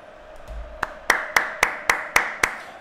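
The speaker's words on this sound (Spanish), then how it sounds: "Me despido, me despido de Anfield aplaudiendo" Applause from a player at Anfield in the FIFA 23 video game: a sparse, slow run of about seven sharp, evenly spaced claps, close and fairly loud over a low crowd hum.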